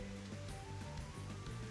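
Steady wash of flowing water in a Final Fantasy XIV Shadowbringers area, a continuous watery rush with soft game music tones layered faintly over it, quiet and even throughout.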